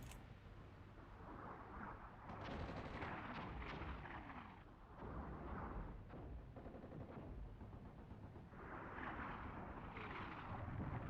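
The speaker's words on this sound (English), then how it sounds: "Cluster ammunition coming in." Cluster artillery rounds in the war game Armored Brigade 2 rumble and crackle as a dense, continuous barrage of distant booms and popping impacts, rolling on steadily in waves without pause.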